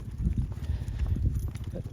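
Horse hooves clip-clop quickly and rhythmically on a road during a cattle drive, close and loud, with faint talking mixed in.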